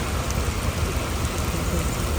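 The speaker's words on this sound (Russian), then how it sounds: "Это вот дождь. Чуть-чуть не сдувает. И ветер, дождь." Steady rain pours down in central London with a constant broadband hiss, wind buffeting in a dense, unbroken roar close by.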